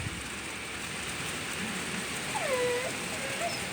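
Steady heavy rain from a hurricane rain band hisses as a continuous even wash, with a faint brief whine partway through.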